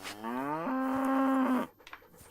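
A single long cow moo from the medieval Bohemia game Kingdom Come: Deliverance, close and loud, rising into a sustained bellow for about a second and a half before cutting off, followed by faint scattered background noises.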